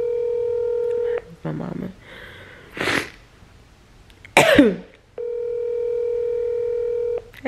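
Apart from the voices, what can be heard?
phone dialing and dial tone while calling mom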